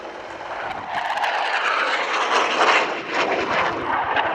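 Loud engine roar of attack helicopters passing nearby at an airshow display, a broad rushing drone that swells and wavers with a rhythmic rotor thumping underneath.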